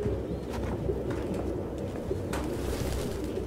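Pigeons cooing in the video game Detroit: Become Human, with soft, repeated low coos layered over a steady ambient hum and no talking.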